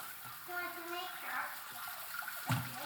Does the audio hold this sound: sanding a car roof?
no